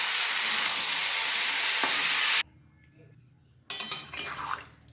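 A vegetable dish of stalks, potato and eggplant cooks in a pan, a loud steady sizzle that cuts off abruptly, followed by quieter clatter and then renewed frying and stirring.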